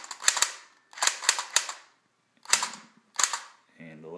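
Recoil of an EMS Top Gun 3 arcade light gun firing while playing House of the Dead: four quick bursts of sharp, rapid mechanical clacks with short gaps between them, loud and close, ending in a brief electronic game tone.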